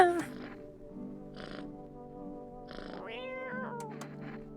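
A cat gives a few short meows, close by, with steady indoor background hum and no talk over them.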